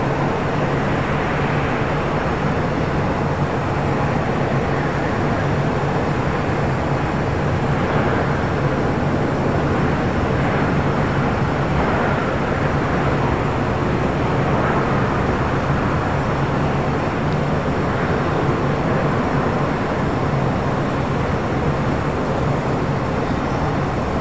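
A steady, broad roar of jet aircraft on the runway at Los Angeles International Airport, sustained and fairly loud with no pauses, like engines spooling for takeoff in the middle distance.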